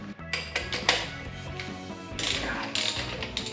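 A hand ratchet clicks steadily while loosening the oil filter cooler on a Coyote 5.0 engine, with close, fast metallic pawl clicks in short bursts.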